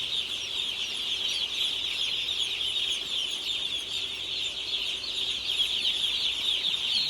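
Newly arrived chicks in a brooder keep up dense, continuous high chirping for the whole stretch, a steady bright peeping chorus at moderate level with no talk.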